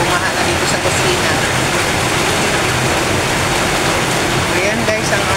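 Heavy overnight rain pours down steadily, a dense, loud, unbroken roar that fills the whole clip.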